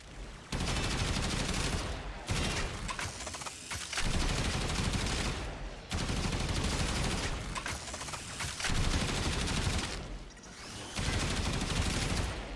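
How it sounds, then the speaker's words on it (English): The Dual Decurion, an akimbo secondary weapon in the video game Warframe, fires in long, heavy, continuous bursts with short pauses between them. The shots are loud and close, with no talking. "One of the beefiest sounding weapons in the game with just the right amount of screen shake"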